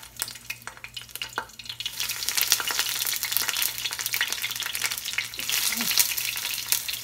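Spicy seafood fries in hot oil with a loud, dense sizzle that builds after a quieter start, full of crackles and sharp pops, and no talking.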